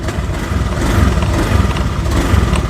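A fuel-injected Honda Beat ESP motorcycle engine rises under light throttle, its close, loud rumble swelling slightly and then holding steady, with no talking.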